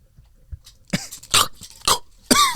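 Several short, harsh coughing bursts come close and loud in quick succession with brief pauses between them, each one a rough throaty bark.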